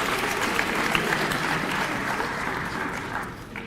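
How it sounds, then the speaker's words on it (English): Dense, sustained applause from a large audience at a university Founders Day ceremony honoring the choir, loud and steady throughout before tapering slightly at the end. "Give them another round of applause."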